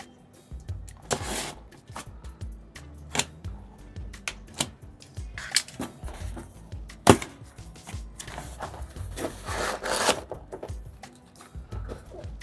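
Packaging of an Apple Magic Trackpad (USB-C) being cut open, with repeated sharp clicks, scrapes and cardboard slicing noises in irregular bursts, close and fairly loud, with no talking.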